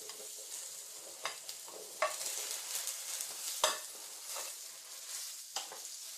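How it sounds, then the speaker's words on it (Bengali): Boiled potatoes and giant taro chunks fry together in a pan. A soft, steady sizzle runs throughout, broken by a few sharp scrapes and knocks from stirring. "এবার আমি এর মধ্যে সেদ্ধ আলু আর এই মানকচুটা একসাথে ভাজবো।"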